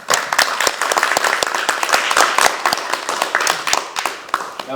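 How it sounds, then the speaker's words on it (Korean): Opening applause at a Justice Party and national urban-agriculture citizens' council election policy agreement ceremony, dense steady clapping from a roomful of people filling the whole stretch. "박수로 같이 시작했으면 좋겠습니다"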